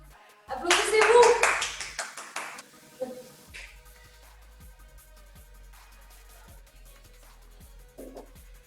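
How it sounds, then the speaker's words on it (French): A small fitness class applauds itself at the end of an ab and glute workout, a short burst of close clapping lasting about a second and a half before fading into scattered taps and quiet voices. "Applaudissez-vous."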